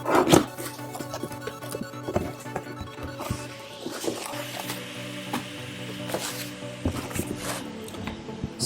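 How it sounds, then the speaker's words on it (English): Packaging of a Corsair H75 liquid CPU cooler being opened and handled, with close crinkling, rustling, tapping and sliding of cardboard and plastic in irregular bursts, no talking. "So let's unbox this and take a look at what we've got."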